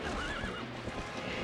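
A horse neighs loudly in a video game dungeon, its whinny running over clip-clop hooves and busy game noise.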